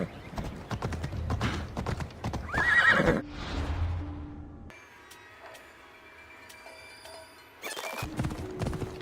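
A horse in Assassin's Creed Odyssey whinnies loudly and snorts amid hoof clip-clops, followed by a quieter stretch with faint tonal game sounds, then another burst of horse noise.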